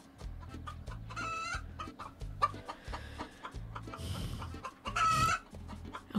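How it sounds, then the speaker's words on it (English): Rooster in the video game SOPA: Tale of the Stolen Potato, a run of loud close clucks over a rhythmic game music beat, then two drawn-out crows near the end. "It's that dang chicken."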